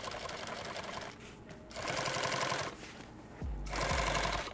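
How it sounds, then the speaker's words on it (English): Sewing machine stitching a kit bag near a zipper, running in three loud bursts of rapid mechanical stitching separated by brief pauses, with a low thump as it restarts. "I'm going to put this line of stitching right here"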